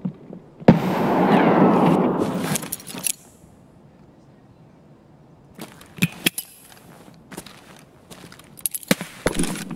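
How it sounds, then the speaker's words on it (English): A grenade blast in a PvP first-person video game, heard as one loud, close burst lasting a couple of seconds and then dying away, followed after a quiet gap by several sharp, scattered clicks and knocks. "I'm going to chuck a nade down there."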